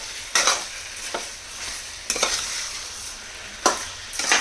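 Vegetable pieces tossed with coarse salt get stirred in a pan, with three or four distinct scraping strokes over a soft sizzle.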